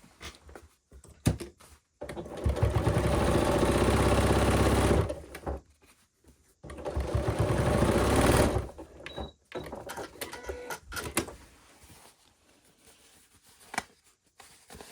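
Sewing machine stitching a seam sandwiching one fabric piece between layers of another, as in Regency-style dressmaking; two sustained runs of steady motor whir, one for about three seconds and another shorter, separated by brief pauses and small handling clicks.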